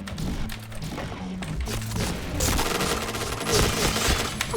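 Gunshots in a shooter video game, a busy deathmatch room with rapid firing and glass being shot, loud bursts and thumps over game music, with no talk.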